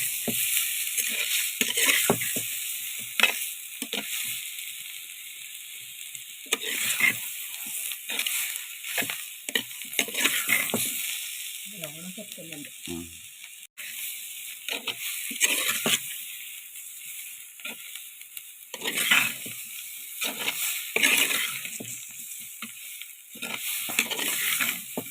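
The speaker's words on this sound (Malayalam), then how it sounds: "ഇനി നമ്മുടെ വേവിച്ച് വെച്ച നമ്മുടെ ചേമ്പിൻ്റെ തടയും കൂടി ഇട്ട് കൊടുക്കുന്നുണ്ട്. എല്ലാം കൂടി ഒന്ന് മിക്സാക്കി എടുക്കുക." Cooked taro stems being stirred and tossed in a frying pan, with a quiet steady sizzle and irregular scraping strokes of a utensil, no voices.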